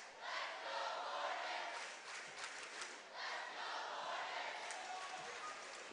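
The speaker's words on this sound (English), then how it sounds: "You can hear the crowd chanting, "Let's go, Morgan."" Crowd at a girls' high school basketball game at North Kansas City chanting "Let's go, Morgan," rhythmic massed voices echoing in a gym at moderate distance, rising and falling in repeated phrases.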